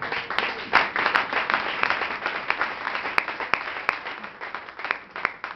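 Church congregation applauding together after a scripture reading, a dense, steady wash of many hands clapping throughout with a few sharper individual claps standing out.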